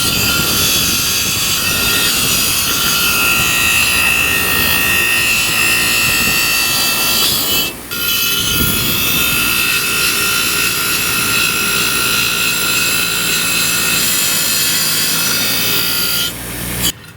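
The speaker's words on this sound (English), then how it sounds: "Now this one here, I will just clean that outside here on my wire wheel." A wire wheel runs loud and continuous outdoors, grinding and scrubbing dirt off a John Deere lawn tractor part, with a brief dip in the harsh brushing about midway before it resumes until the end.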